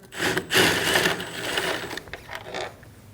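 A 10mm socket wrench works a headlight bolt on a Volkswagen Passat, giving close, loud clicking and ratcheting bursts in quick succession that fade toward the end.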